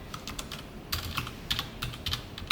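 Quick clattering keystrokes as code is typed on a computer keyboard, close up and alone, in short irregular bursts with brief pauses.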